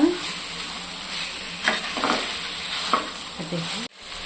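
Chicken fries on high flame in a clay pot for biryani, giving a steady bright sizzle with a few stirring scrapes before the sound cuts off abruptly.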